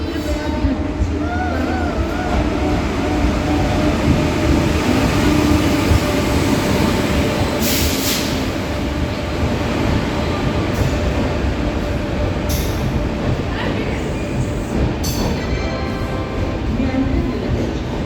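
Mandore superfast express pulling into a station platform, a loud continuous rumble of wheels and carriages rolling past close by, with brief higher squeals and station noise layered over it.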